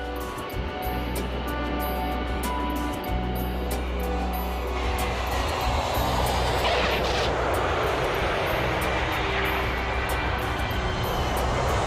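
A Pan Am airliner, flight 1736, lands and rolls along runway 30, a loud, steady jet roar over a deep low rumble that swells broader and louder around the middle, with no voices.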